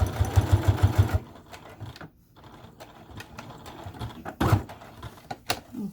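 Home sewing machine stitching an X pattern to reinforce a fabric dog leash: a short close burst of fast rhythmic needle chatter, then quieter pauses with handling clicks and a second brief burst of stitching.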